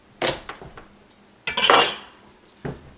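A knife cutting into a Gete Okosomin, an ancient Native American winter squash, in a home kitchen: three sharp knocking cuts with brief clatter, the middle one longer and scraping, close and fairly loud with no talk.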